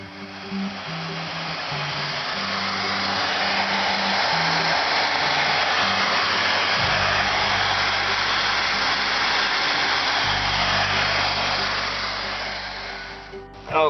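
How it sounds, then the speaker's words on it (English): A heat gun shrinks heat shrink tubing on a motorcycle stator wiring harness, giving a steady, loud blowing roar for about fourteen seconds over a low background hum. "I have to heat up the shrink wrap right now."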